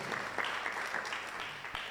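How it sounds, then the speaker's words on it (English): Audience applause at an alternative dispute resolution moot competition award ceremony, a steady wash of clapping held at even loudness for about two seconds with no talk over it. "A round of applause once again for our judges"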